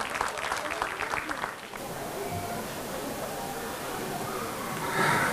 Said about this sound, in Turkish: Başkanımıza güzel bir alkış istiyoruz.